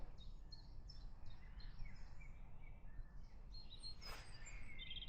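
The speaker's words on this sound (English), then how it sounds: "listening to the birds while I'm doing this track walk" Distant birds chirp and sing in repeated short phrases over a steady low outdoor rumble at a motor racing circuit, faint and spread across the background.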